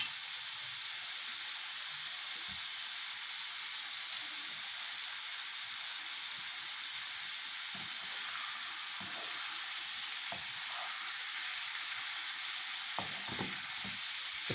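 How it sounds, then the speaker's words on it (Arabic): Green peppers sizzling with liver in a hot pan, a steady close frying hiss throughout with a few soft clinks and stirring bumps, no voices. "بعد كده ننزل عليها في الآخر الفلفل، برضو ما خلاص هتستوي هننزل بعد كده بالفلفل."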